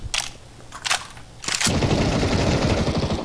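Gunfire in the Counter-Strike 2 video game: a few separate sharp shots, then a dense, continuous burst of rapid automatic fire, loud and close, with no talk.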